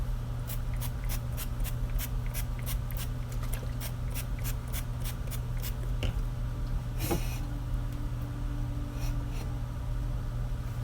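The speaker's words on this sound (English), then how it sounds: "I'm going to spray mine with Pam" A rapid series of short hissing bursts of Pam cooking spray onto a 9 by 13 inch baking dish, fairly evenly spaced, followed by a pause and then one final spritz.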